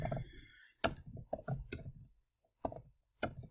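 Close-up typing on a computer keyboard: short bursts of quick clicking keystrokes separated by brief pauses, loud and crisp against a quiet background.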